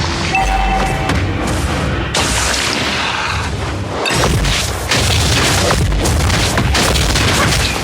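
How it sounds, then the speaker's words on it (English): A turret blows up in the Mobile Legends video game with loud, heavy booming blasts and crashes that repeat amid busy battle effects, filling the mix from start to end. "Your team destroyed a turret!"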